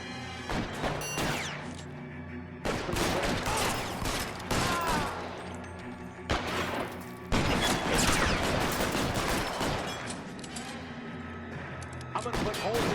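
Dense gunfire rattles almost nonstop in the L.A. Noire video game, bursts of rapid shots and crashes layered with game sound, loud and close throughout.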